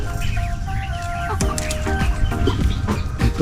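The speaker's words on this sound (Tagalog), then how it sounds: "dito po may naglilimlim na manok at saka po dito pato" A brooding hen on a small farm clucks repeatedly nearby, with other chickens and a brief flutter of wings around it, the low, throaty calls coming in uneven bursts.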